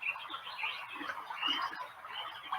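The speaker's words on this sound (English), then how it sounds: "appreciating the bird sounds," Several birds chirp and sing continuously in a forest, moderately close, with overlapping high calls and no talking.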